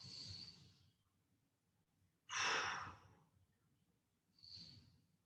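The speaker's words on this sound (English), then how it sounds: "5 big breaths." Deep breaths during an exercise stretch: three slow, audible breaths, alternating soft exhales and a louder rushing inhale, close and quiet with no talking.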